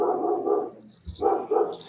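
Dogs barking indoors in a home, a couple of harmonic bursts around a brief quieter gap with a faint high whine, fairly close and moderately loud.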